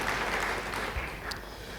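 A church congregation claps for someone during a sermon, a brief, soft spatter of applause heard at a distance in a reverberant room, fading after a couple of seconds.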